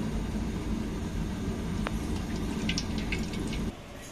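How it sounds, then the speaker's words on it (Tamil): Cooking oil streams into a dry heated pan before frying carrot vadai, a continuous close pouring hiss and trickle that stops abruptly near the end. "இப்போ எண்ணெயை ஊற்றுவோம்."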